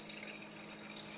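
SodaStream flavour syrup poured from its bottle into a drinks bottle, giving a soft, steady liquid trickle that runs unbroken and fairly faint for about a second.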